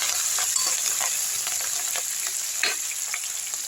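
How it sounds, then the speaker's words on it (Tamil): Curry leaves and vegetables for a broad bean and drumstick stir-fry sauté in a hot pan, giving a bright, steady sizzle punctuated by a few soft stirring scrapes. "நல்லா வதக்கி விட்டுருங்க."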